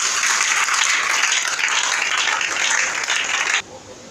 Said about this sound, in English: If you want to clap, clap for Jesus.